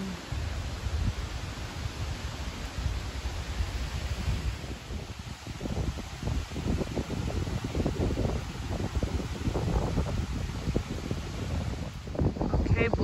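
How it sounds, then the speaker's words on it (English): Steady wind buffets a microphone on the Appalachian Trail near the Blue Ridge Parkway, a constant low rumbling roar with gusty fluctuations, loud and close throughout. "This wind feels so good."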